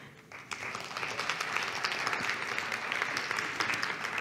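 At a security forum conference session, an audience breaks into applause that swells after a quiet start and stays as steady, dense clapping at a moderate distance.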